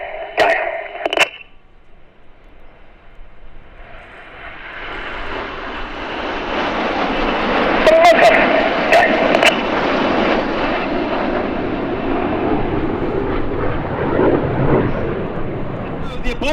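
RAF Red Arrows jets fly an aerobatic display at an air festival, engine roar building from faint to a loud sustained sweep overhead after a brief burst of announcer commentary over loudspeakers.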